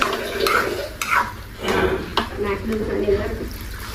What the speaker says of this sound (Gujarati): આ ચમચા હલાવવાનો હવાજ છે